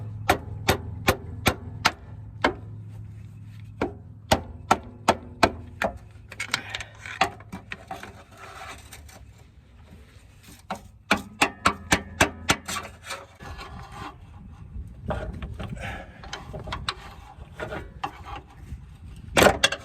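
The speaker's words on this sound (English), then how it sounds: "I'm going to do that with this great big screwdriver. Just smack it in there a little bit." Large screwdriver being struck to pop the CV axle out of the hub on a 2003 Honda Element: sharp metallic smacks come in quick close bursts, with scraping and rubbing of metal between the runs of blows.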